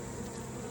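Honeybees buzz at an open hive during a frame inspection, a dense, steady drone of many wings close by, with no voices.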